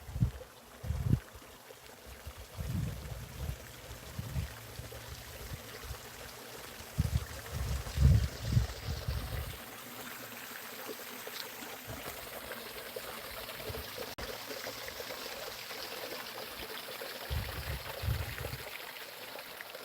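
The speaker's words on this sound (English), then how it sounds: "here you can actually hear the sound of water" Water trickles and pours softly at a graveyard in Sweden, a faint flowing stream sound with intermittent low thumps and bumps from handling nearby, quiet and close.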